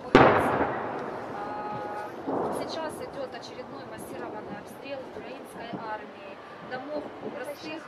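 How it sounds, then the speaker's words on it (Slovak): Distant shelling sounds as a couple of dull booms, one at the start and another after about two seconds. A voice then talks over the faint background. "vonku začalo dosť silné ostreľovanie a v diaľke počuť pravidelné"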